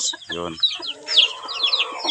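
Pet chickens cluck in short bursts close by, mixed with a brief clucking call and higher chirps, while someone speaks briefly nearby.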